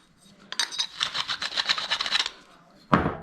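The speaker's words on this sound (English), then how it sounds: "Let's just do one more deburr. Make sure it's perfect." A deburring tool scrapes a pipe end ready for a SharkBite fitting, giving a close, rapid run of gritty rasping strokes for about two seconds, then a pause and one more short scrape.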